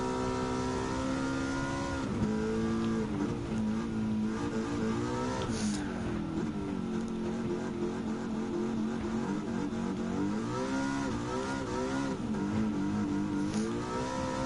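Shelby GT350R with a 6-speed transmission in Gran Turismo 7, its engine droning loudly and continuously, pitch climbing and dropping as it revs and shifts gears through a racing stretch.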